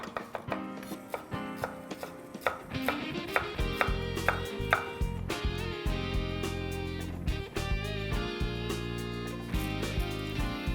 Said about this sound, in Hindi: ग्रेवी बनाने के लिए चॉप प्याज